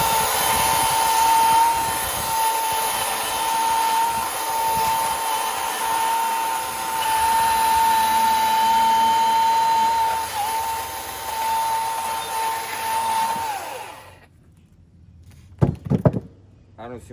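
A Milwaukee M18 14-inch top-handle battery chainsaw cuts wood with a loud, steady electric whine and chain buzz for about fourteen seconds, then cuts off abruptly, followed by a few sharp knocks.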